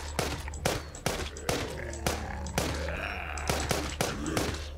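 Gunfire in the zombie video game The Walking Zombie 2, a series of sharp single shots fired roughly every half second, with faint game ambience and low hum underneath.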